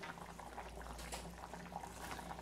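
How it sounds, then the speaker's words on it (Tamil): Chettinad vathal mandi gravy with sun-dried vathal bubbles in a pot, a soft, continuous simmering burble with small pops, faint and steady throughout. "வத்தல் சேர்த்து நல்லா கொதிக்க ஆரம்பிச்சிருச்சு"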